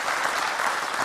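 Audience applause for a group of boys at a youth basketball clinic, a short burst of steady clapping from a crowd at moderate distance.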